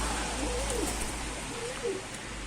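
Pigeons give soft, low coos, two brief rounds against a quiet background hum, faint and somewhat distant.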